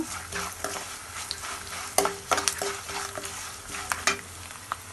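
Tempering spices with turmeric and salt are stirred in a hot pan for Andhra pulihora, giving a steady sizzle with a spoon scraping and clicking against the metal in irregular strokes.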